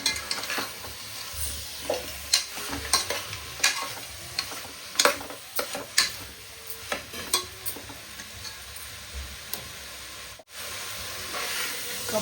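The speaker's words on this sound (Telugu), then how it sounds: "2 ఉల్లిగడ్డలు, ఇప్పుడు కలుపుకోవాలి." A spoon stirs sliced onions in a pan for an okra and mutton curry, giving repeated scraping strokes over a steady oil sizzle and hiss, close and moderately loud, with no talking.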